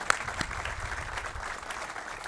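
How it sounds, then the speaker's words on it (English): Fairly faint applause from a small crowd at an apartment ribbon-cutting ceremony, a steady patter of clapping lasting a couple of seconds. "let's give them all a round of applause"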